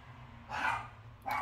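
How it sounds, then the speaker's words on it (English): A dog barks indoors in two short bursts, the first louder and longer, the second brief, over a low steady background hum. "The dog just, it barks all the time."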